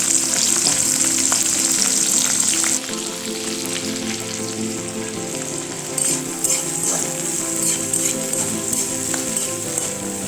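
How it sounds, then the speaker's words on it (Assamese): Fish curry base frying in hot oil in a pan, green chili and onion sizzling loudly and continuously with occasional stirring scrapes and a slight drop in intensity partway through, no voices. "ভালদৰে ভাজি ল'ম এইখিনি।"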